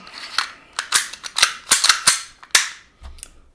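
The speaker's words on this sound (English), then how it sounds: "So I'm going to put the slide back on." Metal-on-metal clicks and snaps as the slide is fitted back onto an HK/WE Glock 23 Gen4 gas blowback airsoft pistol, a rapid series of sharp, close clacks followed by a final firm click, with no talking.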